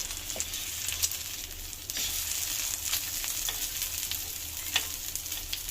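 An egg frying in a small amount of oil gives a steady, soft sizzle throughout, with a few brief crackles and pops rising above the continuous hiss.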